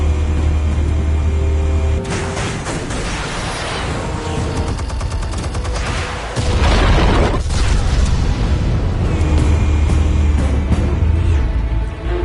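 A loud explosion from armed explosives in the Telltale Batman game, opening on a low rumble, then a crackling burst of debris and a heavy boom near the middle that rolls on into sustained low roaring.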